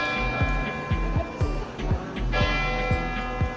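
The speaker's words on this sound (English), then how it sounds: "That's the bell tower going off, which is pretty cool." Church bell tower ringing in Tuscany, a steady series of repeated strikes roughly every half second, moderately loud with a sustained metallic hum over faint background.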